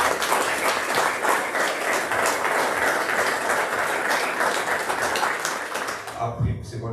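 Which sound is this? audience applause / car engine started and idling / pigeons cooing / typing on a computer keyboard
audience applause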